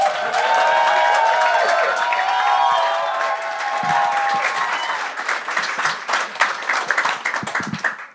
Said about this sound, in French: tu gardes ces applaudissements-là pour la personne qui va casser la glace